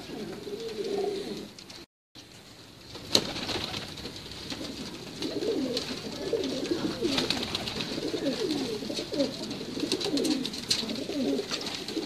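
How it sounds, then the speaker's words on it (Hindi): Teddy pigeons cooing on a rooftop loft, a steady run of soft, low, rolling coos close by, with a brief gap and a sharp click near the start and faint high hiss throughout. "जी सर, टैडी कबूतर है।"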